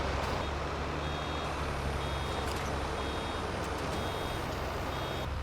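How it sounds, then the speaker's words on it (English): A Krone Big M baler in Farming Simulator 22 beeps repeatedly while it wraps. Evenly spaced high electronic tones sit over a loud, steady engine and machinery drone, with no voices. "when that starts beeping, it stops picking up while it does its wrapping bit"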